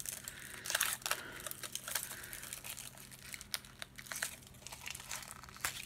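Plastic sheet face mask packet being torn open and handled, giving a run of crinkling, tearing plastic rustles in irregular bursts, close and fairly loud, with no talking.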